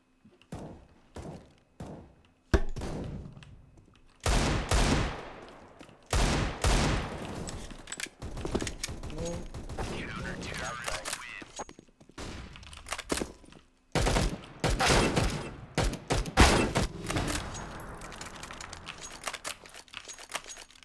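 Pistol gunfire during a video game map playtest: sharp shots, some single and some in quick bursts, ringing out repeatedly across the whole stretch, with clunks and other game noise in between.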